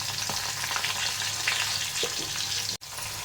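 Asafoetida dropped into hot oil alongside garlic for a Rajasthani kadhi tempering, giving a loud, steady, close hiss of sizzling with stirring, broken by one brief dropout near the end.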